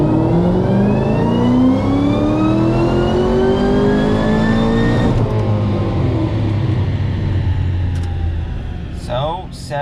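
2012 Shelby GT500 with a VMP Gen3R supercharger on a dyno, roaring loud and close as the engine revs climb steadily under acceleration, then the note drops away and fades into quieter rumble with brief voice at the end.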